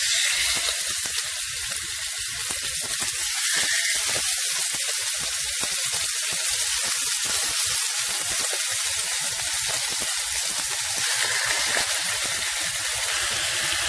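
Chicken breasts frying in olive oil in a pan, a loud, steady close sizzle with continuous crackle that never lets up.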